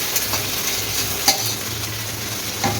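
Fried cauliflower sizzles steadily in a hot pan with tomatoes, potatoes and turmeric, a continuous close frying hiss broken by a few light utensil clicks from stirring.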